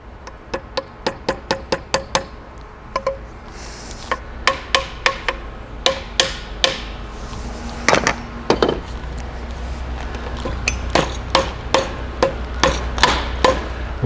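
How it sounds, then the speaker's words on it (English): A hammer peens aluminum over a bushing on a Knight Light Tower mid-plate. Sharp, close metallic taps come in quick runs with short pauses, at first steady and then crowding together toward the end, with no speech. "just go ahead and make a couple of little peens. That'll kind of fold that little bit of that aluminum in on that bushing"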